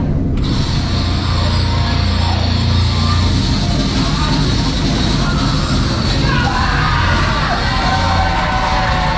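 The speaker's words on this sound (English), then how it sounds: "a very, very different crowd reaction to what we first saw from him" A large crowd at a True Grit Rumble 2020 wrestling event roars, yells and whoops continuously for about nine seconds, loud and dense throughout.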